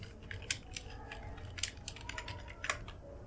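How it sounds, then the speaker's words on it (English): Close typing on a Mac computer keyboard, a steady patter of light key clicks with a few sharper taps, over a faint low room hum. "So open your favorite browser and just type Visual Studio Code."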